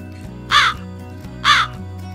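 Two loud, harsh crow caws, about a second apart, ring out clearly over a quiet background.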